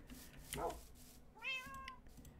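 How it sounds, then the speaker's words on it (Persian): A cat in the Minecraft video game meows twice, a short call followed by a longer, clearer one, over a low steady game background. "طور که میبینی هر یه قدم یه گربه اینجا گذاشتم"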